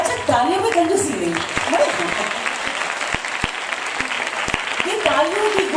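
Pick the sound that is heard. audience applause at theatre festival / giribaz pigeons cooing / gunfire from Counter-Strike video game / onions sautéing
audience applause at theatre festival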